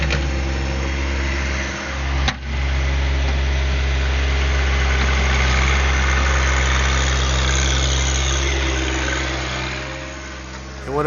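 A John Deere 1025R compact tractor's engine runs steadily up close, a loud, constant rumbling drone climbing out of a steep dug pit with the tiller raised, with a brief dip and a thump early on.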